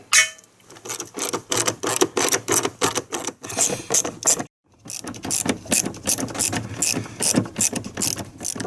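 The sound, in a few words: socket ratchet with extension loosening headlight bolts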